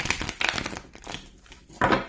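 Tarot cards shuffled by hand during a reading, producing bursts of crisp riffling and papery slaps in uneven clusters, near and fairly loud, with quiet gaps between.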